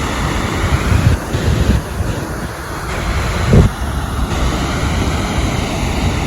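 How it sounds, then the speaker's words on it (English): Steady, broadband roar of rushing water from Faxafoss waterfall in Iceland in November, constant and loud, with wind buffeting the microphone and brief louder gusts. "Our next destination was the Faxafoss, which is the next 2 out of 3 waterfalls on our list today."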